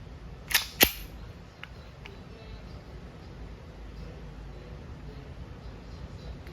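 Two sharp, close shots from a WE M92 full-metal airsoft pistol in quick succession, followed by quiet room tone with faint handling noises.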